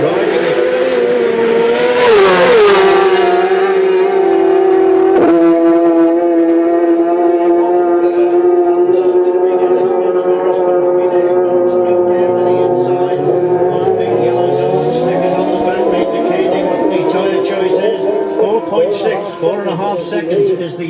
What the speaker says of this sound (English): The bike sounds good, he's riding it.